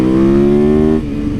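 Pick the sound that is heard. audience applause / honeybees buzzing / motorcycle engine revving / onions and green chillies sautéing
motorcycle engine revving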